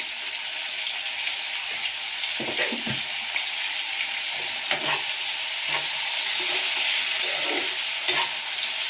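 Ginger and fennel paste sautéing in a pan, with a steady broadband sizzle and intermittent scraping stirs of the spatula, close and continuous with no talk.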